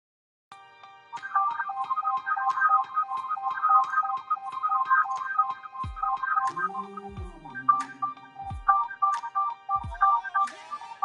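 A telephone rings repeatedly in a steady electronic ringtone pattern over a background of music and a voice, with a few deep thuds between rings.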